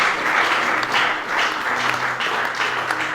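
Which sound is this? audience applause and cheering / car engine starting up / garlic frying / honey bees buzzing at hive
audience applause and cheering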